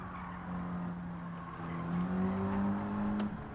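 A race car in Gran Turismo 7 drives a time trial with a steady engine drone whose pitch slowly rises as it accelerates, plus faint tire noise and a few light ticks, and no talk.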